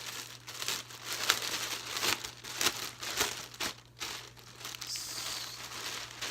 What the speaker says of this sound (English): Let's go ahead and unwrap this.